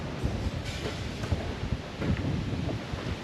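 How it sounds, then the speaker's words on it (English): Strong Category 5 hurricane wind roars continuously in broadband gusts near Carriacou, buffeting the microphone with rumbling low-end bursts. "we're starting to get those tropical storm gusts"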